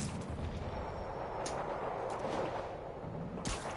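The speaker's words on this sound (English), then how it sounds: "APC under fire. Repeat, we are taking fire." Distant gunfire in a Spider-Man video game, rumbling booms and scattered sharp cracks over a dense, steady roar of combat during an attack on an armored personnel carrier, lasting several seconds.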